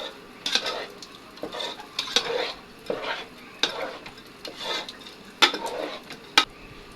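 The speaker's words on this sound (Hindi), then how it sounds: "इसे हम अच्छे से फ्राई करेंगे जी" Food frying in a pan while being stirred, with repeated scraping strokes of a spoon and clinks of utensil against metal over a low sizzle, close and moderately loud.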